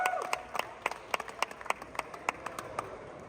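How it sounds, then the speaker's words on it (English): Sparse clapping from the audience at a physique competition's British finals as the top three competitors pose: distinct, fairly faint individual claps in an irregular rhythm, heard against a quiet hall. "Audience members, a round of applause for your top 3"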